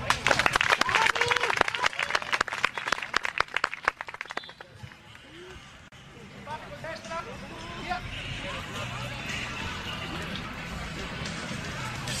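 Applause at a dog show breaks out in quick, dense clapping from an audience for about four seconds, then fades into crowd murmur and a voice over a public address system.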